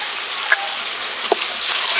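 Fish curry with fried shrimp cooking in a pan, giving a soft steady sizzle with a few faint pops and crackles. No voices.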